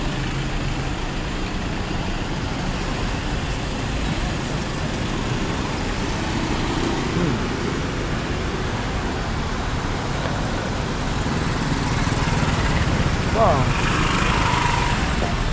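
Continuous street traffic in Chiang Mai, Thailand, a steady dense roar of cars, trucks and motorbikes passing close by, with a person talking over it.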